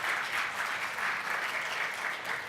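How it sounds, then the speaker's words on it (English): Steady audience applause fills a keynote address at a community development summit, a dense, even wash of clapping held at a constant level throughout with no break. "It's so funny, you started to clap,"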